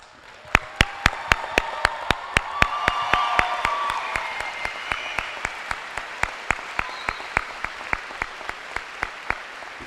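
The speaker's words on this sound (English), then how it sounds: "We would like to thank you with a generous round of applause." A high school graduation crowd gives a round of applause to standing military veterans: full applause with some cheering swells early, then thins to a few steady, close claps continuing in a regular beat.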